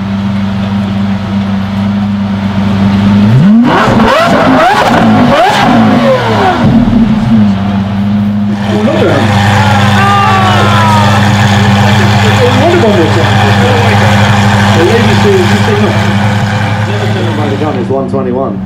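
Supercars at the Heveningham Concours of Elegance 2024 launching and accelerating, with a loud, rising engine surge around the middle, then a second car revving up through gear changes while a crowd murmurs and people talk nearby.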